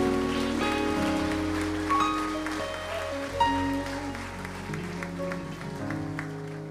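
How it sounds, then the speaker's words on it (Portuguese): A church congregation applauds during a worship service, a soft steady patter of clapping beneath sustained organ-like keyboard tones. "quem recebe, aplauda o Senhor"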